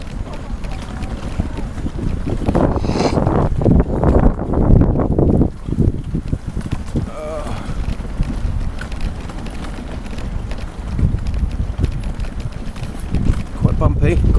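Gusty wind buffeting the microphone beside a flooded lake with high water over the paths, a constant roaring rumble that swells and eases, with a person speaking now and then underneath.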